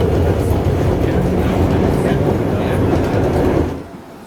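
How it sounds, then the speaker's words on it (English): A historic 1896 trolley tram rumbles loudly along its rails up close, a heavy, steady low roar with faint clatter that fades off near the end. "So there's a historic trolley from 1896,"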